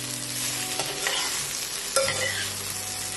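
Bitter gourd (karela) sautés in hot oil over a flame, a soft steady sizzle with a few scraping stirs of a spoon against the pan, heard alone without talk.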